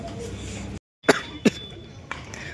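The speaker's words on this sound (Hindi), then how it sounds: "कोल्ड ड्रिंक पिया, खांसी शुरू हो गई।" Two close, sharp coughs come after a sip of cold drink, set in a short quiet gap in an indoor vlog, with some faint speech-like sound around them.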